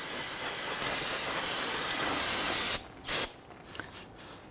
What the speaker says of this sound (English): I'm going to use some spray solvent to clean off some of this residual garbage here